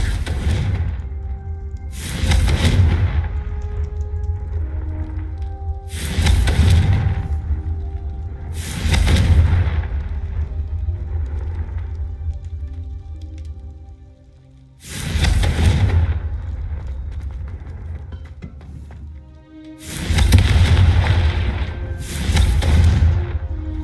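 Fire spell explosions from the Hogwarts Legacy video game go off as loud, booming blasts, six in all, each followed by a rumbling decay, heard alone without speech.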